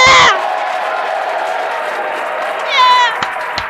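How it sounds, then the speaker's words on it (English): A crowd at SpaceX Mission Control in Hawthorne cheers and whoops during a Falcon 9 booster landing, a steady roar of voices that swells near the end, with a couple of sharp claps. "Crowds cheering here at SpaceX Mission Control Hawthorne as we tune in to see if we stick the landing."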